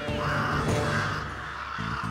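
Crows caw repeatedly in a dense, loud flock, harsh calls overlapping continuously with no pauses, set in a mythological animated drama scene.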